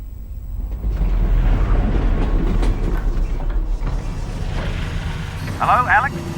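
A train rolls along rails in the video game Half-Life: Alyx, a steady low rumble with faint rhythmic clatter that holds close and loud throughout, while a voice briefly speaks over it near the end.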